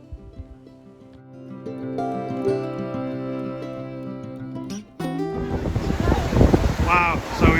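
The Urubamba river rushes beside a swaying footbridge on the Inca Trail in Peru, a loud, steady broadband roar of churning water that surges in after a few seconds of tonal sound and continues to the end.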